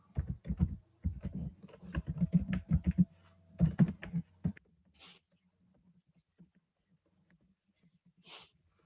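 Fingers type text on a computer keyboard in quick, close clusters of clicking keystrokes for about four seconds, then stop, leaving quiet room tone with a couple of faint breaths.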